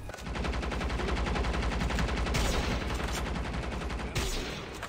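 Rapid automatic fire from a BK rifle in the mobile shooter Call of Duty Mobile rattles out in a dense, evenly spaced stream of loud shots, with two brief pauses between bursts.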